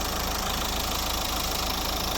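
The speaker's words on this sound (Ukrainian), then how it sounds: "Ось робота двигуна. Дуже класна робота двигуна." A 2009 Nissan Qashqai with the 1.5 dCi K9K Euro 4 diesel engine idling, a steady, even clatter with no change in pitch, close and continuous.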